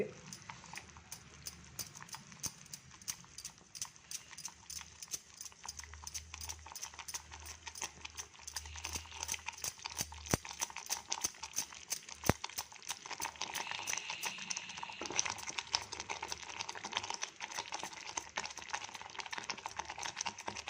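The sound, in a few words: stirring ragi mudde in a pot with a stick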